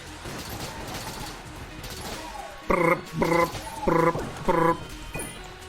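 A gun in the video game Enter the Gungeon fires rapidly, four loud bursts of shots in quick succession following a quieter stretch of game background sound.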